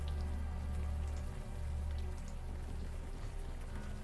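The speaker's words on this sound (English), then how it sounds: "the warm rain is coming down" Steady warm rain pours down in the adventure game Unavowed, a dense, continuous patter of drops on surfaces with a constant low rumble, heard alone with no voices.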